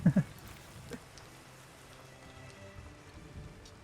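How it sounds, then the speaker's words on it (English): Steady soft rain in the video game Fabledom, a faint, even patter throughout with a couple of brief louder taps at the start. "I remember now how much I loved the rain."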